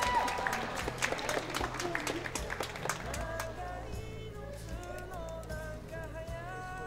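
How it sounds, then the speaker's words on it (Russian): Audience at an anime convention Christmas award ceremony applauds a first-place winner, with steady dense clapping filling the hall while a voice talks over it and fades toward the end. "Хлопать, приветствовать."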